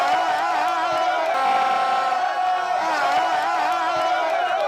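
Crowd of supporters cheering and whooping for Lion FC receiving the trophy after a holiday league football final, a sustained wash of voices with rising shouts, fairly loud and continuous.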